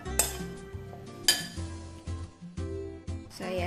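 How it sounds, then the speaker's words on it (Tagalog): Cake batter for a no-bake, eggless yema cake being mixed in a bowl: a utensil knocks and clinks against the bowl in a few distinct bursts, with softer scraping and stirring between them, close up and with no talking. "Mix well."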